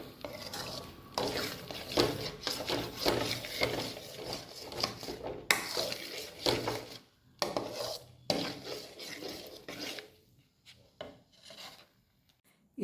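Almond halwa stirred continuously in a pan, rhythmic scraping and rubbing strokes of a spoon against the metal, close and fairly loud, with short pauses near the end and no talking.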